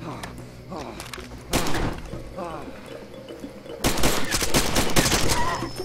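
Gunshots ring out in Far Cry 2, with one sharp crack followed later by a denser cluster of loud reports over a busy game soundscape, while voices talk underneath.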